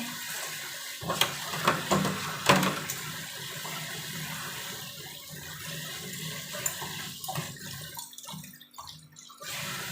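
A wooden board is washed with water, with continuous splashing and pouring nearby, a few sharper splashes early on and a rougher, patchier wash toward the end.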